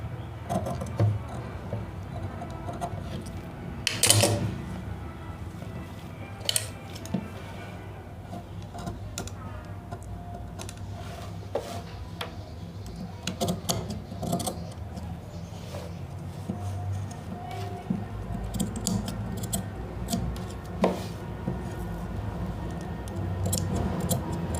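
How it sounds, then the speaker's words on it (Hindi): Scissors cut through cloth for a sleeve with soft, close, irregular snips and crisp crunching. The cutting carries on steadily at a quiet level, with a few sharper clicks along the way and no talking. "इस पे अपन को कटिंग कर देनी है।"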